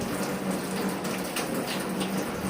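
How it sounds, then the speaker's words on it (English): A steady, loud rush of tap water runs continuously with a soap bar held under the stream at a sink during handwashing; no speech is heard. "place it under running water for several seconds"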